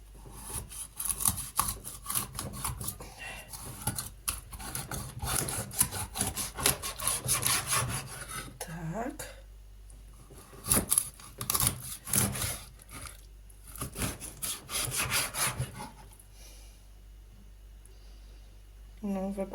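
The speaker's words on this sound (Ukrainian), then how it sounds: "бачите, як я ріжу. На такі рівномірні пласти." A sharp knife cuts a carp into even slabs with repeated rasping, sawing strokes in bursts and short pauses, heard up close.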